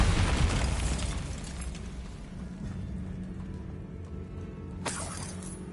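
Bombarda spell blast in Hogwarts Legacy: a loud rumbling explosion with crumbling debris that decays over a few seconds, then a sharp crack near the end.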